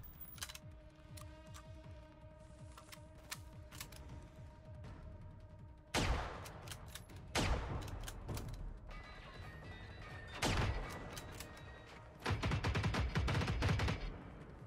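Gunfire in the video game Generation Zero: rapid automatic bursts and single shots, with sharp loud volleys and mechanical clatter, growing heavier in the second half.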